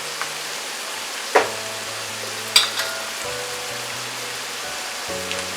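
A large tomato frying in a pan for a fried chickpea recipe gives a steady low sizzle with a few sharp clicks and clatters of utensils, and there is no talk.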